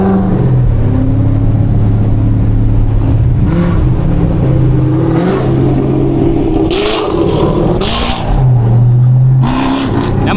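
Scat Pack or cammed SS muscle car engine revving and rumbling in traffic, a steady loud low drone with rising throttle bursts, heard close from inside without talk.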